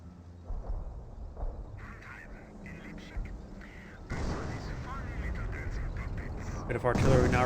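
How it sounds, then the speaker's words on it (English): Artillery fire in Company of Heroes 1: intermittent booms early on, then a dense rumbling barrage of shelling that thickens and grows louder toward the end, mixed with unit voices. "Bit of artillery now running on in."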